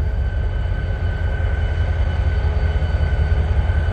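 Metro 308, a diesel locomotive on display at a railway museum's diesel days event, gives a steady loud low engine drone with a faint whining tone above it, unbroken for the whole stretch and with no talking.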